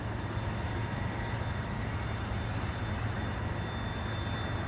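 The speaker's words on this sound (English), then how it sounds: "listen to the airplanes" Aircraft engines at Chicago O'Hare International Airport give off a steady, broad roar with a low hum beneath it, holding constant and moderately distant with no talking.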